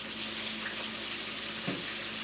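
Fish fries in hot oil with a quiet, continuous hiss and crackle that stays even throughout, with a small pop near the end.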